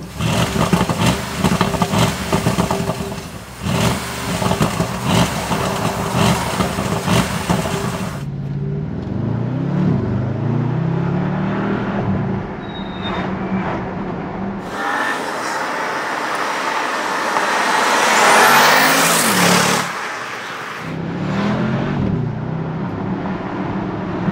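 A 2021 Bentley Continental GT Mulliner engine revving and accelerating hard on a winding road, rising and falling through gear changes, loud and close, with brief quieter stretches between pulls.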